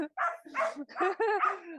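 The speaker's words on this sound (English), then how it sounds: "A dog." A dog barks and yips in a quick run of four or five close, voiced calls on an urban walk.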